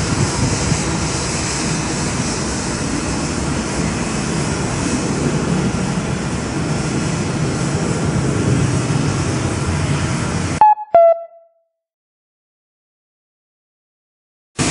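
A loud, steady jet engine roar of a Skymark airliner taking off from New Chitose Airport fills most of the clip, then cuts out abruptly, followed by silence.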